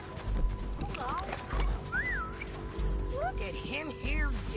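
Horses in the Red Dead Redemption 2 video game, with hoof clip-clops, snorts and repeated whinnies rising and falling over a steady game background hum, heard up close alongside speech.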